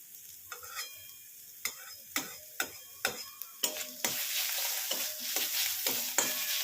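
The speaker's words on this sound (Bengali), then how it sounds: "দেখুন পেঁয়াজ ভাজা হয়ে গেছে" Onions frying in a pan, with repeated sharp clatters of a spatula stirring and scraping through a steady, loud sizzle that swells toward the end; no talking.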